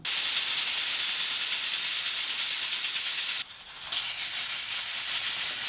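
A pressure cooker cooking beef nihari on a stove vents steam in a loud, continuous high hiss, which drops out briefly for half a second before resuming, with no talking.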